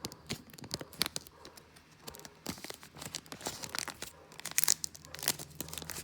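A Pokémon card booster pack torn open by hand, with repeated crinkling rips and crunches of foil packaging coming in uneven bursts, close and fairly loud, with no talking.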